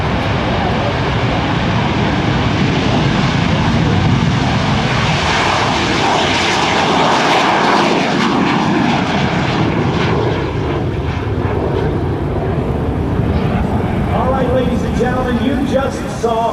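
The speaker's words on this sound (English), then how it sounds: "you just saw a very, very special airplane take off" A loud, continuous engine roar from a special airplane taking off at the 2009 AirPower Over Hampton Roads air show, piloted by a former Marine, easing slightly toward the end.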